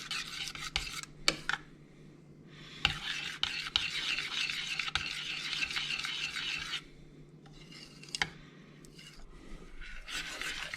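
A spoon stirring a thickening butter mixture in a pot, soft scraping and rubbing strokes that come in long sweeps with short pauses and a few light clinks, fairly faint and close.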